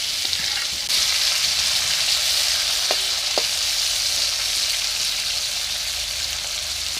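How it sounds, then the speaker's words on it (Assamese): Potatoes fry in a wok for a fish curry with curry leaves, a steady close sizzle filling the whole stretch with a couple of faint metallic taps partway through and no talking. "আৰু এতিয়া কেৰাহীখনত আকৌ মই আলুখিনি ধুনীয়াকৈ ফ্ৰাই কৰি লম"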